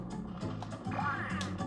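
Video game ducks in Donald Duck Goin' Quackers quacking in short repeated bursts over game music and effects, with a few sharper calls near the end.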